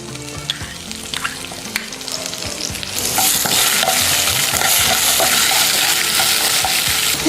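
Peanuts frying in a pan with quiet stirring and scraping, then crushed green chilies go in and a loud, dense sizzle surges up and holds steady close by.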